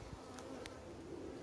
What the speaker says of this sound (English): Because I think a bee just bumped into the camera.